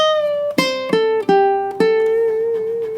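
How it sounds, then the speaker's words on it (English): Plucked ukulele notes, several picked in sequence with one pre-bent note released, sliding down in pitch before settling and ringing out, close and clear. "when you do a pre-bend, you bend off of the note like this"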